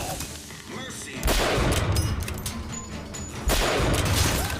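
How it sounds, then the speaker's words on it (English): Enemy gunfire in the video game BioShock Infinite, with two loud volleys of shots and crashing impacts separated by a quieter stretch of game noise. "Something else is shooting though."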